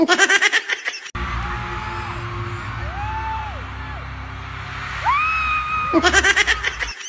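A person lets out loud, rising practice screams and whoops over a low crowd murmur at an All-Star basketball game, with bursts of clapping at the start and end.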